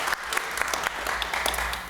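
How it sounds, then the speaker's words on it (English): Civic leadership academy graduates applaud themselves at their graduation ceremony, a lively round of clapping with distinct individual claps standing out over a steady crowd patter. "give yourselves a pat on the back, a round of applause"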